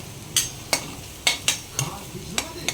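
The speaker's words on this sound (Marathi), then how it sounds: "सो हे छान असं परतून घ्यायचं कांद्यामध्ये मसाला सर्व।" Spice masala is sautéed with onions in a pan over low heat for mushroom butter masala, with a soft background sizzle and sharp, irregular spatula scrapes and taps against the pan.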